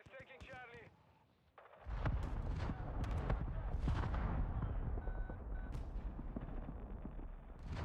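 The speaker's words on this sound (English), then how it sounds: "Friendly mortar strike inbound." Mortar strike in Call of Duty MW2 multiplayer: after a voice over game sounds, a heavy, sustained rumble of explosions and battle noise swells in and rolls on loudly.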